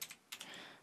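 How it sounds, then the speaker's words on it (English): A few quick keystrokes on a computer keyboard, faint and close, typed while entering a search in the Windows start menu. "Go to there and type in"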